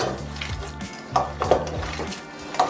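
Köfte mixture with egg is mixed in a bowl, giving soft wet stirring sounds with intermittent light clinks of a utensil against the dish, close and fairly quiet.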